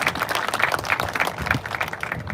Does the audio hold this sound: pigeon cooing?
no